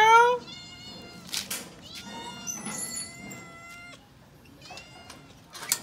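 A cat meows repeatedly in clear, close, harmonic calls at feeding time as it is fed fish bones, with a faint voice in the background.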